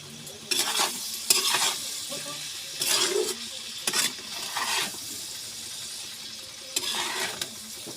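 Ground coriander and cumin with turmeric sizzle as they are stirred and fried in a pan, bursts of spattering and scraping in several loud spells separated by quieter stretches.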